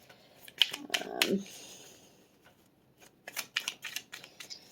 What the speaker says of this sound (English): So I'm going to shuffle these